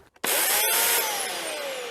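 An EPL 2200 electric chainsaw bites into a three-year-old walnut tree, bursting from near silence into a loud, sustained whine that dips briefly and then holds steady with a slowly falling pitch.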